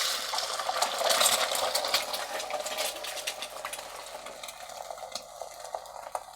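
Eggs crackle and spit as they fry in oil in a wok, with a busy hiss that swells early and then settles into a softer, steady sputter.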